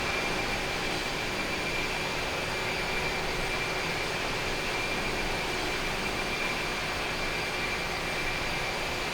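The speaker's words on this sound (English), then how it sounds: "Big old engines in this thing here." Simulated Airbus A300-600R jet engines roar during takeoff acceleration in Microsoft Flight Simulator, a steady broadband rumble and hiss that holds constant without a break and with no voices.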